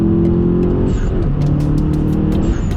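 A Volkswagen Golf engine drones loudly and close up under acceleration, its pitch shifting as the revs change and settle for a few seconds.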